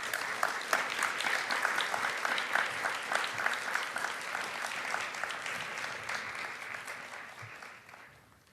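Warm applause from a church youth worship congregation welcoming a speaker to the front, dense sustained clapping from many hands that slowly fades out at the end.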